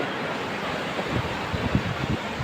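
Steady broadband wash of sea surf at Diu, with low rumbling surges building toward the end, like waves rolling in, mixed with some wind noise.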